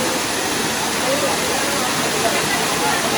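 At Girnar in Junagadh, the main fall of Jatashankar pours at full flow, a constant hiss-like rush of water that fills the scene evenly and loudly from start to finish.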